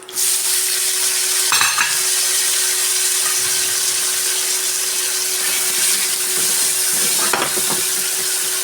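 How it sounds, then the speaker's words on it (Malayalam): Cut lemons tossed into a hot pan with chili powder for lemon pickle, a loud continuous sizzle and fry close by, broken by a couple of stirring scrapes, with a steady hum underneath and no talk. "ഇനി കട്ട് ചെയ്ത് ചെയ്ത് വെച്ച നാരങ്ങയിടാം"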